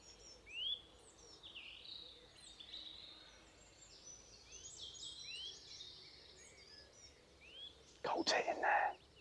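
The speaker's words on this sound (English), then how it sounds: "Coal tit in there." Coal tit singing outdoors among other small birds, a series of high thin repeated notes and chirps at moderate distance, with a louder burst of calls near the end.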